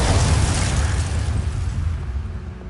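Bombarda spell blast in the video game Hogwarts Legacy, a loud booming explosion with a rumbling low-end roar that slowly fades over a couple of seconds, with no talking.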